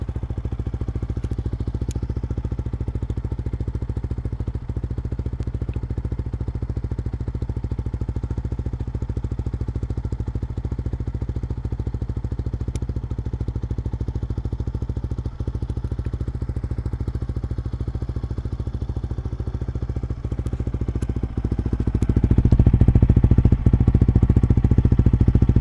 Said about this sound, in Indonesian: suara knalpot ini cukup halus, adem, dan ngebas banget cuy